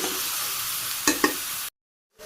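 Chicken meat sizzles and fries steadily in a pressure cooker with two sharp scraping stirs, then a brief silent cut before the sizzle resumes.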